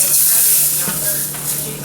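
Stock and roux hiss and sizzle loudly in a hot pan as gravy for wild hog is stirred, a steady frying sound with faint scraping of the utensil, no voices.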